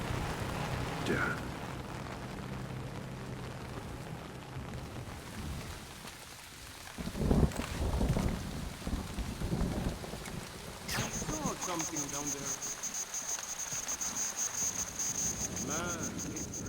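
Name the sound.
heavy rain and thunder in the video game Splinter Cell: Chaos Theory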